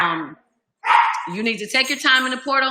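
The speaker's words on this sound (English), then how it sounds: "Sorry about the dog barking." A dog barking indoors, a few sharp yipping barks that overlap a woman's speech, loud and close, with a brief quiet gap between them.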